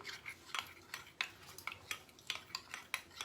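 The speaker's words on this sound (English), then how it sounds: "I shall stir this very well" A spoon stirs corn flour into milk in a bowl, making quiet, rhythmic scraping and clinking strokes at roughly regular intervals. No one speaks.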